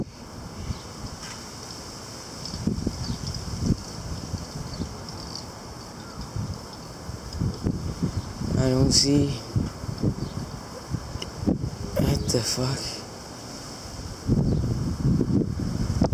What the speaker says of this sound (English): It's windy from every direction.